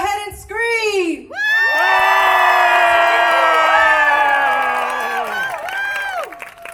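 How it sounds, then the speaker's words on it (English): A big crowd at an outdoor Asian festival contest screams and cheers loudly and continuously, shrill whoops and shouts layered together, swelling then slowly fading near the end. "Go ahead and scream."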